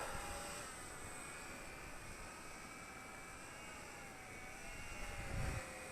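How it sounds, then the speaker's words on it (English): An Eachine E130 RC helicopter's small electric motor whines steadily at takeoff, a faint, even high-pitched hum with a brief swell of lower rumble near the end. "let's go ahead and arm the motor"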